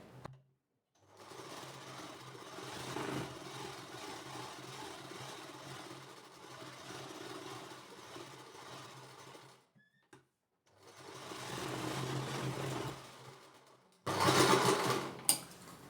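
A sewing machine runs in two long stitching bursts, joining a blouse sleeve for a one-tuck blouse, with a steady mid-pitched whirr, a short pause between runs and a louder burst at the end.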